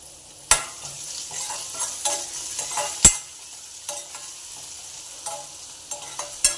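Garlic, ginger and coriander stems fry in a pan, with a quiet sizzle under sharp, irregular scrapes and knocks of a stirring spoon, two of them loud clacks, and no one speaking.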